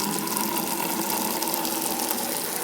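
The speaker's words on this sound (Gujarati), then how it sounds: "ફટાફટ આપણે આ ડોલમાં પાણી ભરી લઈએ પહેલાં" Water gushes steadily from a tap into a bucket being filled for fish, a continuous close, loud rushing stream with no pauses and no talk.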